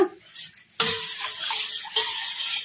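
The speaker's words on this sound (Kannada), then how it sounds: "ಈಗ ಇನ್ನ ಸ್ವಲ್ಪ ನೀರು ಹಾಕೋಣ" Water poured into masala buttermilk in a kitchen, a close, steady rushing pour lasting a couple of seconds, with light clinks of a vessel at the start.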